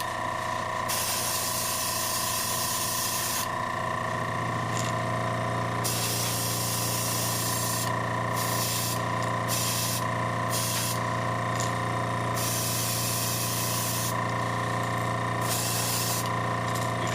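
Airbrush-style spraying of thinned paint onto a custom jerkbait lure: a loud, steady hiss that runs continuously and cuts off and restarts in several short bursts, close and alone with no talk.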